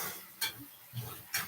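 A utensil scraping and knocking against a pan while chicken mozzarella pasta with sun-dried tomatoes and garlic is stirred, three short close clatters over a faint background sizzle.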